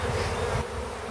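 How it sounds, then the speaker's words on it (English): Honey bees clustered in a box buzz in a thick, close drone that holds steady, easing slightly softer partway through the brief moment. "I'm going to spray down the bees that are still in this box here."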